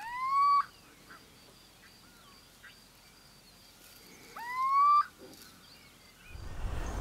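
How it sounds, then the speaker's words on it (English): A little owl gives two clear, rising, mewing calls a few seconds apart, fairly close and alone against a quiet background, with a rustling noise near the end. "Here is one of the little owl's calls."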